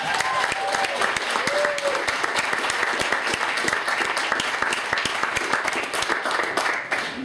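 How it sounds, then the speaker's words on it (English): Audience at a poetry performance giving sustained applause, dense overlapping claps throughout, loud and close, with some voices and cheers mixed in. "So give her another round of applause."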